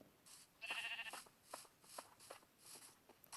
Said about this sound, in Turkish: Ah koyun koyun koyun koyun.